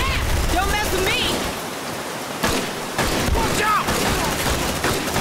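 Suppressive gunfire in the squad tactics game Aliens: Dark Descent, a dense crackling barrage with sharp bursts and weapon whines, heard under talk.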